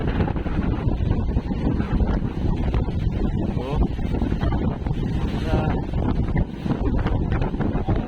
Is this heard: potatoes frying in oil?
no